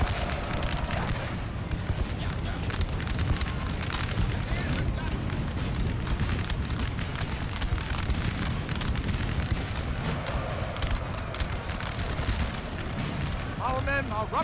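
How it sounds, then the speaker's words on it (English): Friendly artillery fire in a Napoleon: Total War battle, a continuous wash of cannon booms and musket-like crackle rolling through a dense, loud battlefield din, with voices talking over it. "Friendly artillery fire that might have saved their bacon."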